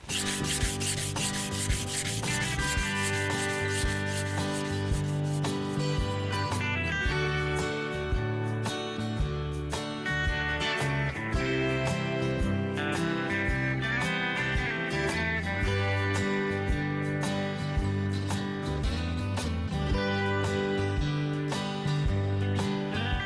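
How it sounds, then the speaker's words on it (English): Fine-grit sandpaper on a foam-backed pad is rubbed by hand over a smooth surface in steady back-and-forth strokes, with music playing loudly throughout and no voices. "like a foam-backed sanding pad for this."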